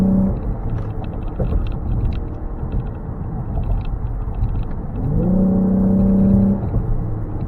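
A Ford Explorer EcoBoost with a loss-of-power fault accelerates: a steady engine drone, then a sudden downshift raises the revs into a louder, higher whine for about a second and a half before settling back.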